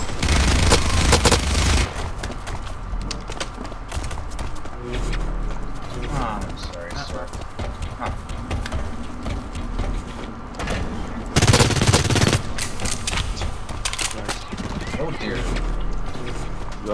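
Gunfire and an explosion in the shooter video game Blacklight: The Proving Grounds, loud bursts of shots with two heavy blasts near the start and middle, over constant game noise while players talk.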